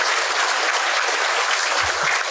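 Audience at a Buddhist talk applauding, a dense continuous burst of clapping, close and loud throughout.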